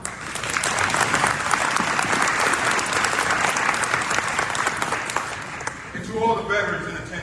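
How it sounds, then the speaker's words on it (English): A veterans breakfast and hall of fame induction crowd applauds the color guard and anthem singer with sustained, full clapping that gradually thins out, followed by a voice speaking at the end. "Round of applause, everyone"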